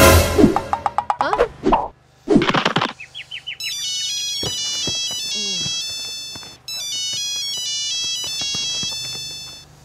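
A phone ringtone in a comedy short rings out as a repeating melodic electronic pattern, loud and close, over music and sound effects.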